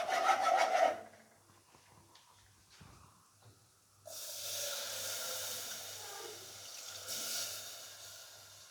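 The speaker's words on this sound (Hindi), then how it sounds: "तो अब हम इसके अंदर डालेंगे मिल्क।" Milk pouring into a pan of chicken cheese pasta, a soft steady hiss of liquid that starts after a quieter scraping stretch and continues to the end, over a faint low hum.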